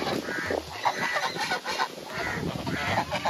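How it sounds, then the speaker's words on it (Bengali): Geese honk several times at a riverside ghat on the Ganges at Halishahar, their calls close and loud over a busy outdoor background. "রাজহাঁস"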